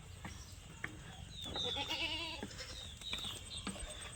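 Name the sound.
goats bleating on goat farm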